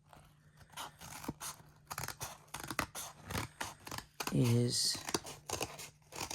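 Scissors snip through fabric while cutting out a pattern piece for a bird soft sculpture, a run of close, crisp clicking cuts heard under a person talking.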